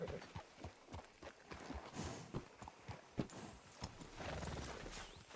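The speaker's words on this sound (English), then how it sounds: "Hitch your horse up here." Horse hooves clip-clop at a walk with a whinny in the Red Dead Redemption 2 video game, close and fairly loud, with rustling movement around them and no talk.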